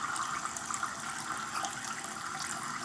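Water poured or running into a pot of kale being cooked on a stove, a steady splashing rush that continues evenly and close throughout with no talk.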